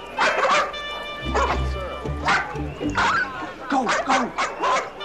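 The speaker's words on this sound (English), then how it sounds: "Hey, lady, you better do something about these dogs" Several dogs bark, yip and whimper loudly and close by in a street scene from a 1985 police drama, while people talk over the noise.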